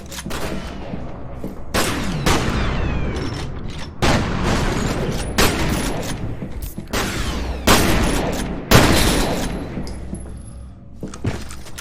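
Grenade blasts and gunfire from the first-person shooter F.E.A.R. (Perseus Mandate expansion): a rapid string of loud booming explosions and bursts of shots, closely spaced across the whole stretch with brief gaps between hits.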